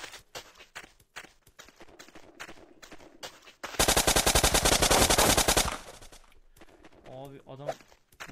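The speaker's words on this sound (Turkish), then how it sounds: "adam vektörle vuruyor beni ya" Rapid automatic gunfire from a Vector submachine gun in the Blockpost video game, a dense burst of about two seconds midway, with scattered footsteps and game sounds before and after.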